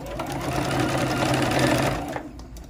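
A sewing machine runs in a fast, steady stitching burst close by while sewing a small fabric tray, then stops near the end.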